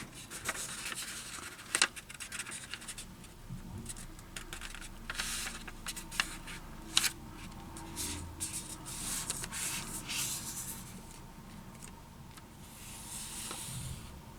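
A sheet of ordinary school notebook paper is folded into a square, giving soft rustling, crinkling and rubbing sounds, close and quiet, with a few sharper creases.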